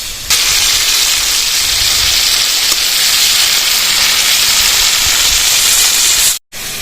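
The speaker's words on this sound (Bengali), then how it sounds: "পটলগুলো কিন্তু লাল লাল করে ভেজে নিতে হবে" Pieces of pointed gourd (potol) frying with turmeric in a pan for a doi potol curry, giving a loud, steady, close sizzle that holds unbroken and then cuts out in a brief gap near the end.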